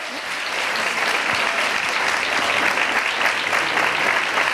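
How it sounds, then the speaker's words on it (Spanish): Audience at a carnival-themed gala in Manilva applauds steadily after a carnival song, a dense, sustained clapping that fills the room. "Un fuerte aplauso, la verdad es que se merece todo"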